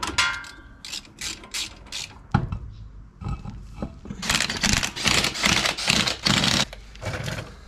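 A hand ratchet tightens a bolt during a brake pad replacement, giving bursts of rapid, close clicking that speed up and stop in several runs with short pauses between them.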